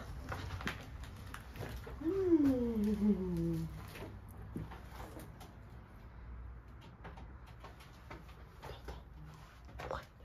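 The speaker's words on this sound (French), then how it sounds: "Il est juste là, c'est un pigeon." A pigeon coos softly with a rising, wavering call inside an abandoned factory, among scattered taps and knocks in a quiet, hollow space with faint room rumble.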